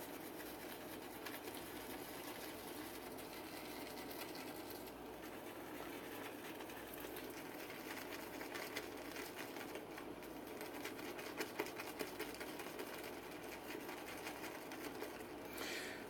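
A shaving brush swirls rapidly over Agave artisan shave soap to load it, a faint, continuous, fast scrubbing rattle that lasts throughout with no speech.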